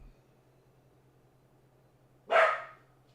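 A single short dog bark from Max rings out clearly over a quiet room with a low steady hum, standing alone with no talking around it.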